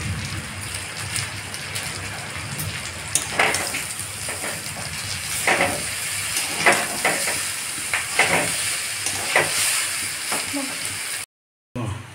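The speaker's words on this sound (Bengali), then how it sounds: "এবার সবজির মধ্যে আমি চাউমিনটা দিয়ে দিলাম, দিয়ে এটা হালকা করে আমি একটু নেড়ে নেব।" Chowmein noodles stir-fried with vegetables in a pan make a crackling sizzle, broken by repeated scraping and tossing strokes every second or so, close and fairly loud, with a short silent gap near the end.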